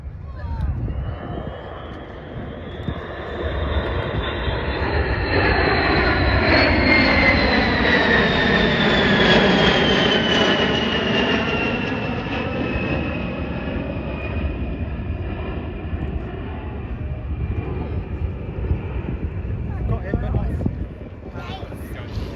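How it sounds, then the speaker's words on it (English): An aircraft flies past at the Farnborough airshow, its loud jet roar rising and sweeping through a falling Doppler pitch before fading, with wind noise on the microphone and a person talking over it. "Here it comes. Oh, it's a beautiful plane."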